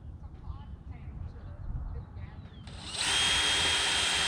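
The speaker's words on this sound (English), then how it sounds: "So we'll drill a hole here in order to start with my" Quiet room noise with faint movement, then a power drill abruptly spins up to bore a starter hole for a DIY chicken waterer, running loud and steady through the end.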